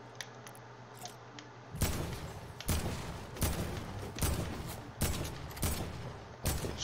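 Gunfire in the video game Fortnite: a series of about six loud, sharp broadband bursts at roughly one-second intervals, each with a short decaying tail, over a low steady background hum.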